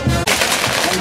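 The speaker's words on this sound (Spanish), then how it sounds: "Comenzó la quema de los fuegos artificiales." Fireworks bursting at a village patron saint festival in Cajatambo, Peru: a dense, continuous crackle of rapid explosions, loud and close, like a string of firecrackers going off nonstop.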